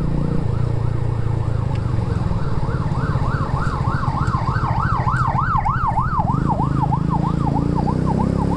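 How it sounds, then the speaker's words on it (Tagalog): A loud ambulance siren wails in rapid, repeating up-and-down sweeps, close and continuous over traffic rumble. "may ambulansya sa likod natin."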